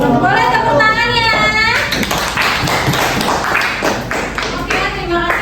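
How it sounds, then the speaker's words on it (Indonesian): An eighth-grade class at SMPIT Yasir claps after a student's poetry presentation in an Indonesian language lesson. A voice comes first, then a burst of close, scattered hand claps with some voices mixed in. "Boleh tepuk tangannya."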